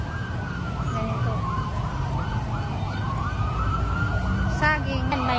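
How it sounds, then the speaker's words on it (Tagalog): An ambulance siren passes along a busy market street on a rainy day, its wailing tone rising and falling steadily over constant loud traffic and crowd noise. "may dumaan na naman yung ambulansya"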